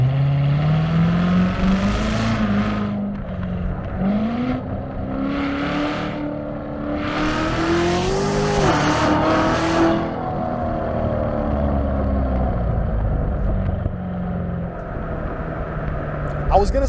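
A C7 Corvette Z06 accelerates along back roads, its engine note rising and falling through gear changes as a loud, continuous rumble heard from inside the cabin, with speech nearby.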